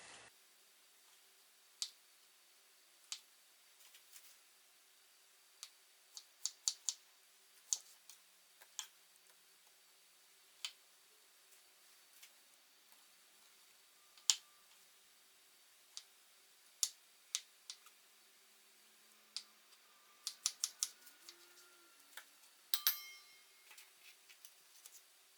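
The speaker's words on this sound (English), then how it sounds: "So what I'm supposed to do is peel these and cut them up and take the pit out." A knife peeling and dicing peaches makes sparse, faint taps and clicks against a cutting board, scattered irregularly through a quiet room with a few quick clusters near the end.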